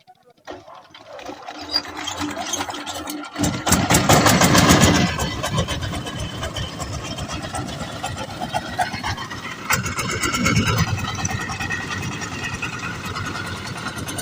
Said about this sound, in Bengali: ইঞ্জিনটা এখন স্টার্ট দিবে